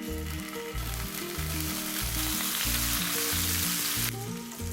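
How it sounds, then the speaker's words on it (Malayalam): Marinated sardines sizzle steadily in a little oil on a hot tawa, a close, continuous frying hiss with a soft underlying crackle that dips slightly near the end. "ഇതിലേക്ക് മീൻ വെച്ച് കൊടുക്കാം"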